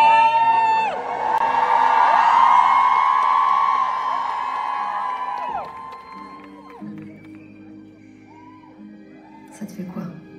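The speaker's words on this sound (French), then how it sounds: "Tu l'entends, le bruit de la foule?" A concert crowd roars and whoops loudly for several seconds before the cheering fades away, leaving quieter voices and background sound.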